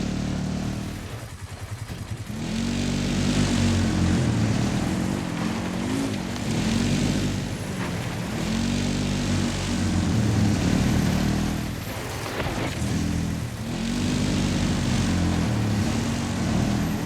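A military drone flies in a Battlefield 6 battle, its buzzing propeller drone loud and close, holding a steady rising-and-falling tone with periodic wavering sweeps over about seventeen seconds.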